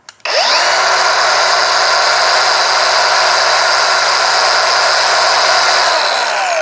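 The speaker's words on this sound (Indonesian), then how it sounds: "gerinda yang sudah berbaterai dan menggunakan motor brushless" Dongcheng DCMS03-100 cordless brushless angle grinder with a disc fitted, spinning up quickly and then running at a steady, loud, high-pitched whine for several seconds before winding down, with no talk.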